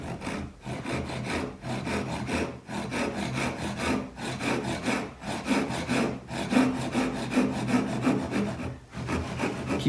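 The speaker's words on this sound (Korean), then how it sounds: "그 깊이 감안해 가지고 톱질을 해주시는 거죠" A hand saw cuts a dovetail joint in wood with steady, rhythmic back-and-forth rasping strokes, close and continuous, with no voices.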